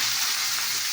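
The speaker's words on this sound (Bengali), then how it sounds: "আর এদিকে করলা আলু ভাজা চলে" Bitter gourd and potato slices frying in oil in a kadai, a loud, dense, continuous sizzle with no voices.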